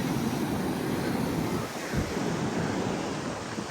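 Sea waves rolling and breaking at Shivrajpur beach near Dwarka, a loud continuous wash of surf mixed with wind buffeting the microphone, with no voices.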